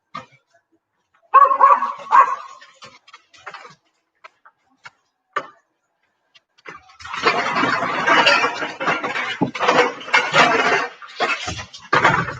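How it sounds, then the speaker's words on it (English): Dogs bark indoors, a few sharp yaps early on and then a busy stretch of overlapping barking and scuffling that continues to the end. "Yeah, I got doggies."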